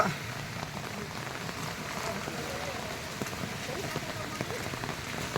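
Heavy rain pours steadily onto surfaces as floodwater enters a house compound, a dense continuous hiss with scattered drips and splashes close by, no voices standing out.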